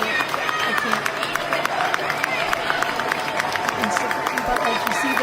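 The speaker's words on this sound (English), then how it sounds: "you see all these people singing and clapping for her" A crowd sings together and claps steadily and loudly, the sharp claps repeating in a continuous rhythm over a dense wash of massed voices.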